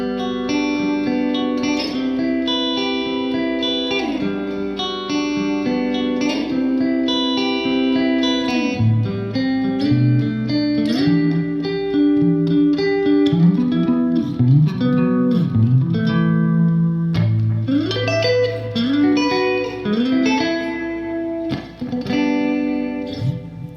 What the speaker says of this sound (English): So basically all we have there are two different chord voicings and an accompanying arpeggio.